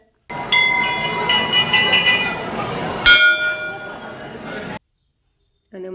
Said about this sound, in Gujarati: મંદિરનો ઘંટ તો વગાડવો જ પડે